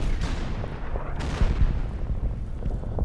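Artillery guns firing in Order of Battle, a World War II US Marines battle on Saipan, heard as two or three heavy booming blasts over a dense, steady battle rumble, with no voices.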